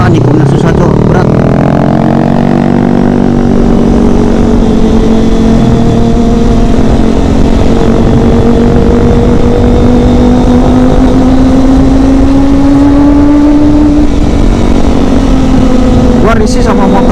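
Kawasaki ZX25RR motorcycle ridden on a hilly winding road, its four-cylinder engine screaming at high RPM as the pitch climbs steadily and holds, with a rider talking over the loud, close whine.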